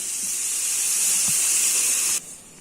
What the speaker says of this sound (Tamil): நான் ஜார் அலுமின வாட்டர் இதுல விடுறேன்.